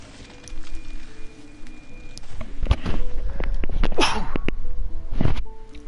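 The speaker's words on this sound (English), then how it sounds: "Sorry, I just sneezed." A single sharp sneeze bursts out close to a microphone during a late-night game stream, surrounded by handling bumps and rustle, with a few quieter breathy noises after it.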